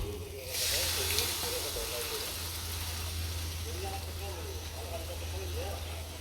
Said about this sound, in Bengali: মশলা কষা নিয়ে গেছি এখানে